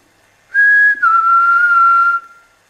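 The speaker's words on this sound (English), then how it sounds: "If I whistle, can you whistle back at me?" A person whistles a single sustained note, close and loud, that steps down slightly in pitch and holds for about a second and a half before stopping, with near silence around it.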